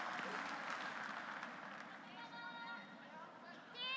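A crowd at the Mary Brown Center applauds a curling shot during a national draw, loud clapping and cheering that fades over a few seconds, with commentators talking underneath.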